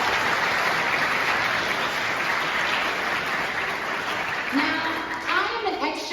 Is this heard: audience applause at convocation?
yes